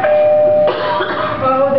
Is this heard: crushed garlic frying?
no